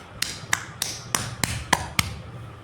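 Percussive tapping on a patient's back during a back-care massage, seven sharp, close taps spaced evenly at a steady tempo, clear over quiet background hum.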